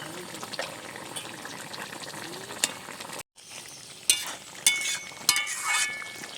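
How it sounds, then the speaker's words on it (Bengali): Cumin and chili powder sizzle in hot oil for a Bengali fish curry with potato, a steady close frying hiss broken by stirring scrapes and clinks, with a short pause midway and louder spattering bursts afterward. "জিরে মরিচের গুঁড়ো দিয়ে একটু সামান্য ফুটিয়ে নিয়েছি"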